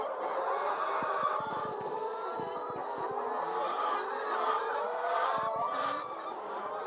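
Chickens cluck steadily in a poultry house while a rooster crows now and then, with the birds recently recovered from an illness; the flock noise is dense, close and continuous throughout.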